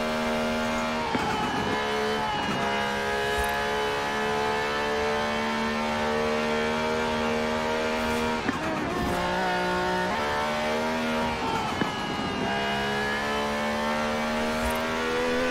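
A 2016 Dodge Viper ACR in Forza Horizon 4 drives hard, its engine note holding a loud, steady high drone that dips and climbs through several gear shifts, close and continuous with no talk.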